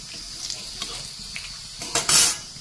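Dry red chillies, cumin seeds and a bay leaf spluttering in hot oil, a close crackling sizzle with light utensil taps, swelling into a louder burst near the end.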